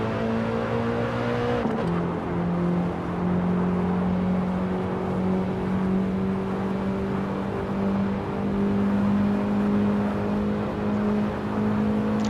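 A BMW E30 M3 engine in the racing game Assetto Corsa, droning steadily at high revs. A quick gear change near the start drops the pitch, then the engine holds a constant loud hum.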